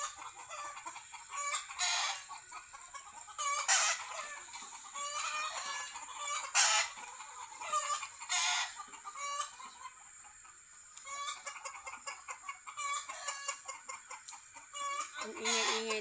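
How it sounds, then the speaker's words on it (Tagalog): Chickens and roosters in a rural province fill the air with repeated clucking and several loud crowing calls, a noisy flock heard nearby with overlapping bursts throughout. "Ang ingay-ingay ng tandang dito sa baba."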